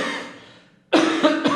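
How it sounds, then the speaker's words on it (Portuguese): A man's single harsh cough, following dental work, breaks out abruptly after a fading tail of sound, close and loud, with a rough throaty burst. "Eu tenho um pouquinho de tosse"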